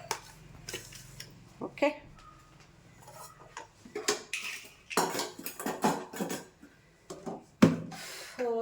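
A mixer jar is picked up and handled in a kitchen, producing a string of hard clacks, knocks and clinks of varying loudness, with a brief spoken word partway through.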